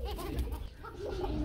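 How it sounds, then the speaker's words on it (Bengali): A pair of Kuka pigeons coo nearby, making soft, repeated low throaty calls that run continuously through the short stretch. "বন্ধুরা আমরা এখানে দেখতে পাচ্ছি একজোড়া কুকা কবুতর রয়েছে, পর্যাপ্ত পরিমাণ ডাকে"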